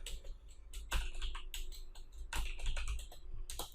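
Rapid typing on a computer keyboard while creating an HTML file, with irregular bursts of sharp key clicks and short pauses, close and clear with no talking.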